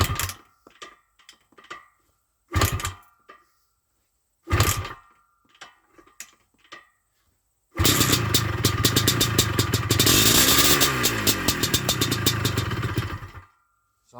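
A motorcycle being started with the choke on: several separate cranking attempts with clatter and brief pauses, then the engine catches and runs loudly and steadily for several seconds before cutting off.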